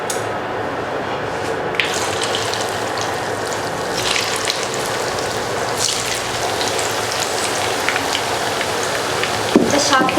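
Potato meatballs frying in hot oil make a steady, crackling sizzle of bursting bubbles throughout, with scattered sharper pops and no talking.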